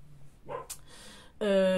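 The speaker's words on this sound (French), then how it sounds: "Je suis désolée si vous entendez les chiens." Dogs barking somewhere in a home: a few short, faint woofs followed by a louder, whining bark, heard alone with no talk.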